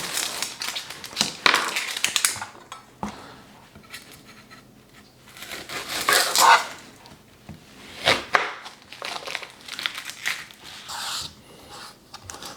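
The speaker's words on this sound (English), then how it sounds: "Let's get our onion cut up." Knife chopping an onion on a cutting board, heard as irregular bursts of crunchy cutting strokes and scraping, moderately loud and close, with pauses between flurries.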